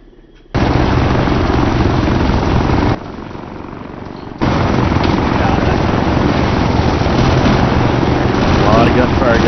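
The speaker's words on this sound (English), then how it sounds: "A lot of gunfire going on." Gunfire rattles through a town during house-to-house clearing in a military video game. It is loud and dense, dips briefly into a quieter stretch, then resumes at full intensity.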